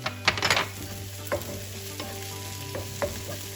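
Onions fry in a pan for a fish molly, a steady soft sizzle with a low hum underneath, broken by a few sharp scraping stirs of a utensil near the start and later.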